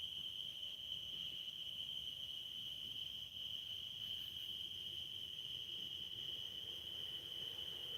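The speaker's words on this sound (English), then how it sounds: "Listen to those tree frogs." Outdoors on a farm, tree frogs call in a continuous, high, steady trilling chorus that holds unbroken throughout, faint and distant, with no voices.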